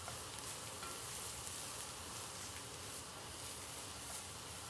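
Corn and English peas sizzle steadily in a hot pan, a continuous close frying hiss with soft crackles and no voices.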